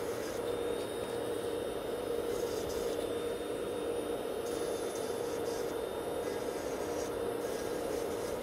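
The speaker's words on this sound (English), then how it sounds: "So I'm filing one side first, and then put my e-file into the reverse and file the other side." An electric nail file grinds steadily on old gel nails during a salon rebalance, giving a continuous close whirring rasp with no breaks throughout.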